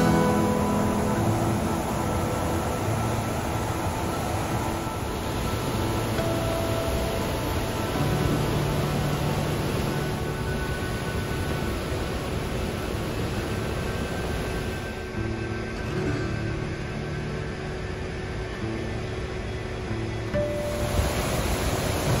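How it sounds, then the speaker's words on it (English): Waterfall on the Half Dome hike in Yosemite National Park, a broad, steady roar of rushing water heard continuously without pause. "Now that's a waterfall."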